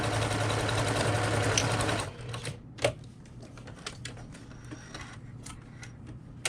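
A sewing machine runs steadily while backstitching a tote bag seam, then stops, leaving faint ticking and handling noises.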